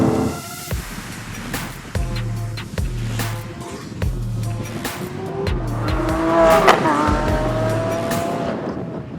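A 2019 Lamborghini Aventador SVJ's V12 roars loud and close, with rising revs and abrupt gear-change steps, swelling toward a high-pitched scream near the end.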